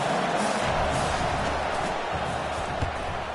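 A home stadium crowd roars steadily throughout a football game, a dense, continuous wall of cheering with no breaks, loud and enveloping from start to finish.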